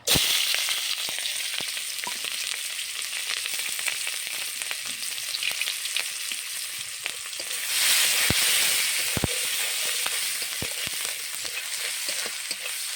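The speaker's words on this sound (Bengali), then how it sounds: "আমি এখন তেলে কাঁচা পেঁয়াজ আর কাঁচা ঝাল দিয়ে দেব।" Raw onion and green chili frying in hot oil, a steady broadband sizzle running throughout with scattered sharp ticks of spatula stirring, swelling louder for a moment midway, no voices.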